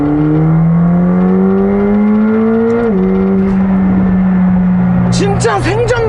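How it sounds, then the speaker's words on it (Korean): A McLaren 765LT engine revs steadily upward to high RPM, its tone climbing, dipping briefly around a shift, then holding before a few sharp bursts near the end; loud and close, with a metallic gear or transmission whine throughout. "진짜 이 엔진이 회전하는 소리부터 시작해서 고RPM으로 올라가면은 이게 기어 소리인 것 같은데"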